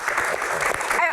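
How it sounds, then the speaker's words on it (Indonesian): An audience applauds at a rally-themed Q&A event, a short, loud burst of dense clapping with voices mixed in. "Tepuk tangan dong."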